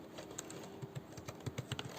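Fairly soft, irregular keystrokes on a computer keyboard as code is typed for a programming exercise, a quick run of clicks with short pauses under a faint steady hum, no talking.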